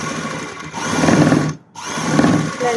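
A sewing machine stitching a fabric frill for a kurti sleeve, its steady whirring motor running close and loud with a brief pause midway before resuming.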